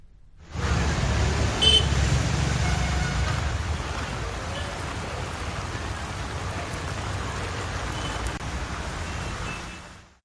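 Heavy rain pours steadily on a waterlogged Raj Bhavan Road in Hyderabad, a dense continuous wash with traffic rumbling beneath it and a brief beep near the start.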